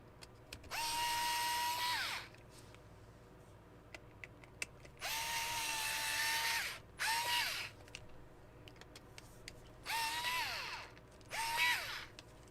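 A power driver runs in several bursts, whirring up to speed as it tightens a bolt into metal threads while readying the Scattergun, a combat robot, with short pauses and small clicks between.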